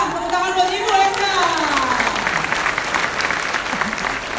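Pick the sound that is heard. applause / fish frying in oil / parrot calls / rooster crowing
applause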